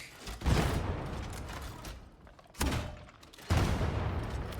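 Gunfire from a 26-shot weapon in the video game Darktide: three loud, broadband bursts, one at the start, one mid-clip and one near the end, each trailing into a rumbling decay.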